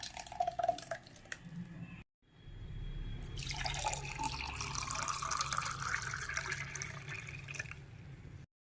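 Blended white pumpkin juice is poured through a filter from a blender jar, a quiet trickling and dripping stream that swells into a steady pour after a brief pause.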